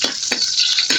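Ginger sliced into a hot pan sizzles with a bright, steady frying hiss, broken by a few sharp clinks of a spatula stirring against the metal, close and clear with no talk.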